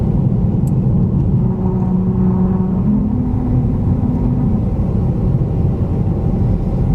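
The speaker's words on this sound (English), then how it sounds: "That was it. That was the musical highway." A car drives at about 45 mph over the grooved Route 66 musical highway, which is designed to play America the Beautiful. A loud, steady tire-and-road rumble fills the whole stretch, with only a faint tonal hum through the middle and no talk.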